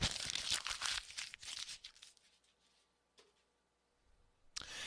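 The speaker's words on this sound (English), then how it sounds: "that's me crumpling up a piece of paper" Close crinkling and crumpling of paper for a couple of seconds, fading to quiet with a soft tick and a final rustle.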